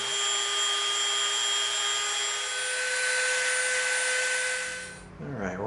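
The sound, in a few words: bandsaw cutting EVA foam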